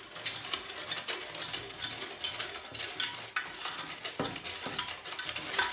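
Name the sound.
mixing sugar into the mixture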